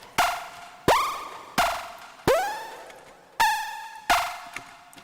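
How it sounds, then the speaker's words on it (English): Gabber-style synth noise programmed on an M8 tracker: six hard, punchy synth hits in a steady pulse, each with a sharp attack, a bright buzzing tone and a quick pitch bend, loud and alone with no voices. "That sounds like an old like Gabber style noise."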